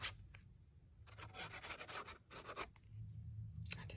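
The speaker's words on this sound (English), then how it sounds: "I just need to burnish it well because you want everything to lie nice and flat." Paper being burnished flat by hand while assembling a Shady Fold album, giving close, repeated rubbing and scraping strokes in several bursts with short pauses between them.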